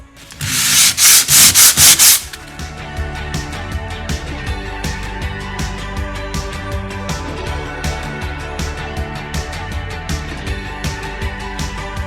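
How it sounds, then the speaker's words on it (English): A plaster patch on a wall is sanded with a quick burst of loud, rhythmic rubbing strokes for about two seconds, which then gives way to a steady tonal background with no more scraping. "one more quick sand on this and we should be done"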